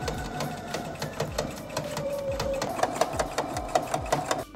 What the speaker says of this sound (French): je pense que je vais vraiment juste faire un ourlet dans ce sens, un ourlet dans le sens de la doublure et surpiquer par-dessus